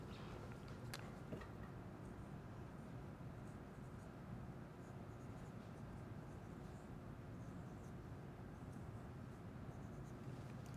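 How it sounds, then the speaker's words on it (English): A marker writes on a board, leaving a steady faint scratching over a continuous low room hum, with no talk. "let me write that on the board"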